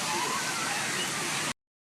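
A fountain's solid water spout splashes steadily in Chicago, a continuous loud rushing wash that cuts off abruptly at the end.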